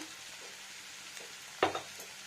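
Oil sizzles softly and steadily in a pan while cooking a fish roe and raw pumpkin curry, with a brief louder crackle or utensil stir near the end.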